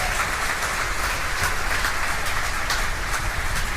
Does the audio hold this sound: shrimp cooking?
no